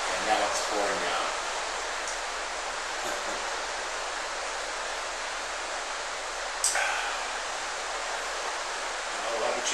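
Heavy nighttime downpour outside a house makes a constant soft hiss, with brief louder rustles and knocks near the microphone breaking through now and then.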